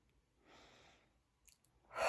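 A slow, soft breath drawn in for about half a second, a quiet pause, then a short sharper exhale, close and alone with no talk.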